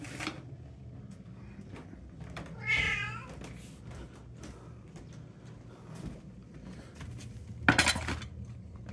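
Three house cats, Felix, Autumn and Socks, at mealtime with canned food split into three bowls: a meow breaks out near the three-second mark, soft clinks and clatter of dishes run throughout, and a sharper ceramic knock lands near the end.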